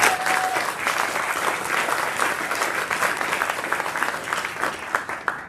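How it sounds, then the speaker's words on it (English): Applause from an indoor audience at a military organization's birthday celebration and honors ceremony, a dense steady clapping that fills the room and slowly thins toward the end, with no voices over it. "let's give her a round of applause."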